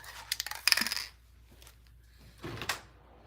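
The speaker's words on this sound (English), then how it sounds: "I'm gonna open the door." A door opened indoors: a burst of jingling metallic clicks and a rattle, then a pause and a softer creak and thump, close and moderately loud.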